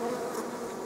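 Honeybees in a queenless mating nucleus in early October give a steady, close insect buzz that fills the short moment with an even drone and no voices.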